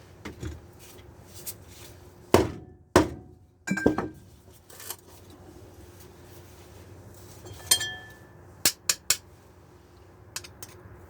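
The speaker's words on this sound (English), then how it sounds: "I'm just gonna punch a hole in it for now." Several sharp metallic clinks and taps, some in quick pairs, scattered across quiet background with short pauses between them, as a hole is punched in an IC chip from a flip phone taken apart by hand.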